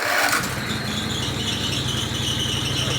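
A Countax garden tractor engine fires up with a bit of choke after a brief crank, settling into a loud, close, steady rhythmic chug, with no talking over it.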